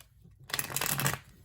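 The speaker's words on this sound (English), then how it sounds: "I'm just doing another shuffle here." A deck of tarot cards is shuffled by hand, giving one quick, close riffling burst of crisp flutter that lasts under a second after a short silence.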